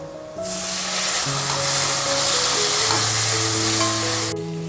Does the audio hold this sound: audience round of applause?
no